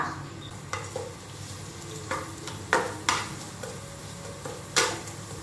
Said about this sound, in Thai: เอารากผักชีกระเทียมพริกไทยที่โขกเอาไว้ลงไปผัดนะคะ